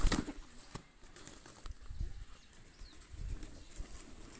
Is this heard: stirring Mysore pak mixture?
no